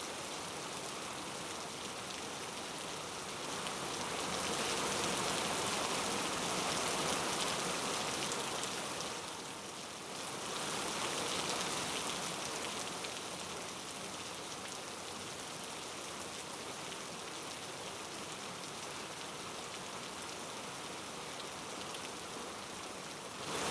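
Steady heavy monsoon rain in Mumbai pours down continuously, a dense roaring hiss that swells slightly in places and never lets up.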